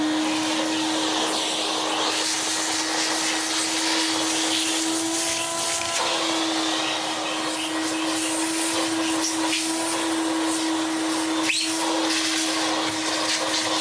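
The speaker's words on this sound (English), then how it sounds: "Fine, let's just vacuum the worst off." A Numatic vacuum cleaner drones steadily and loudly with a constant motor whine, its airflow hiss shifting slightly as the nozzle moves over surfaces.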